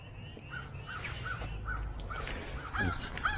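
Crows cawing outdoors at a winter camp, a string of harsh caws at moderate distance, coming in uneven bursts over faint background noise.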